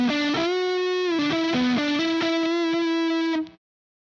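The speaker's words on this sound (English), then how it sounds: "Turn off the mid-range boost. So that's a lot of dirt on it, but that does sound super traditional" James Tyler JTG MK1 electric guitar played with heavy distortion and the mid-range boost switched off, a short sustained melodic phrase of bent and shifting notes ringing loudly alone before cutting off.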